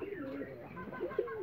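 Pigeons at an agro farm in Matlab Dakshin, Chandpur, including adult birds and chicks, give a brief burst of soft, throaty cooing with a louder coo near the end.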